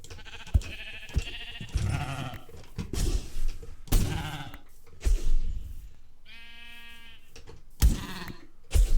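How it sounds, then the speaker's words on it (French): Sheep in the Minecraft video game let out a single harmonic bleat, loud and close, amid talk and game sounds that come before and after it. "3 moutons, allez."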